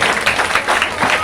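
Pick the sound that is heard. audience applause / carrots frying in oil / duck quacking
audience applause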